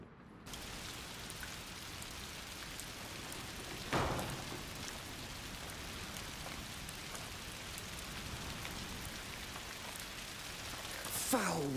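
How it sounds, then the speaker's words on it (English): Steady rain pours in A Plague Tale: Requiem, a constant hissing patter throughout with a couple of louder splashy swells, one near the middle and one at the end. "Foul rain."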